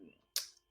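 A single sharp keystroke clacks on a keyboard while an email is typed, one brief, close click after a quiet pause, with no talking.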